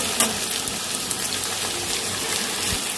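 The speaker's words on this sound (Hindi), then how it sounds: "मैं सुनहरा होने तक इसे मैं भूनूंगी" Potatoes fry in a pan until golden, giving a steady, close hiss and sizzle of hot oil with a few faint pops, constant for a few seconds.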